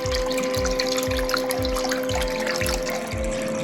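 Water runs through a mini sluice used to wash fine material for gold prospecting in Maryland. It makes a steady, close trickling wash with a faint rhythmic sloshing pulse and no voices.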